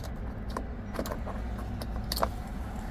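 A regular car key for a 2008 Ford Escape is handled, giving a few light metallic jingles and clicks over a low steady background hum, with no voices.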